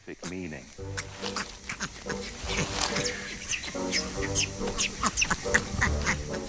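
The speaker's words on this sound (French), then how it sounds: "Lorsque de jeunes singes se montrent trop turbulents et qu'on entend ces grognements" A loud, busy chorus of grunts, squeals and chattering calls from several animals, overlapping continuously with harsh, rapid bursts throughout.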